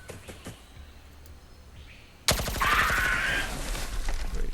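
Heavy automatic gunfire in the Xenonauts 2 strategy game, opening with a few scattered shots and then a sudden loud, sustained burst of rapid fire that fills the last half.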